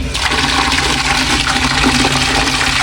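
Strong flow of water runs from a tap in a comfort room, a loud, steady rushing gush that fills the whole clip without any voices.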